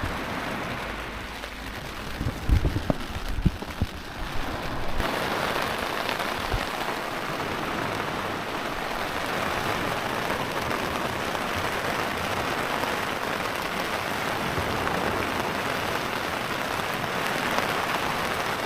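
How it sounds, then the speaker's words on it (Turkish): Steady, dense downpour patters on a tent close by, a constant hiss with a few louder knocks and taps early on. "kahve eşliğinde yağmur sesi dinliyoruz"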